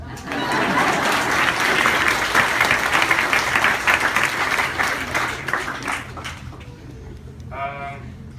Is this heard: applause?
yes